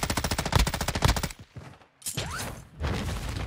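Rapid automatic gunfire from a video game, a loud burst of repeated shots that stops briefly and then resumes as another stretch of dense firing.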